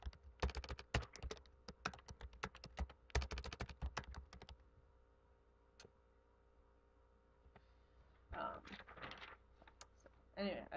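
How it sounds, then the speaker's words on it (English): Typing on a computer keyboard while entering text into a Word 2013 document, with dense bursts of close, crisp key clicks separated by a quiet pause, then more scattered keystrokes. "I've typed in my new data. I've typed in some text."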